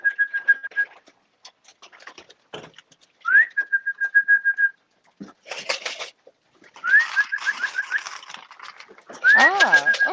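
A person whistles several short, bright phrases with rising slides and held notes at a racing pigeon loft, broken by pauses and some clattering and thumping noises nearby.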